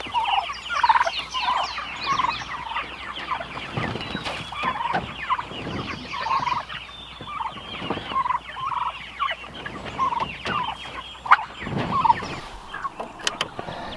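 A flock of meat turkeys gobbles steadily outdoors on a farm, overlapping warbling calls at moderate distance, with a low hum of traffic or wind behind them.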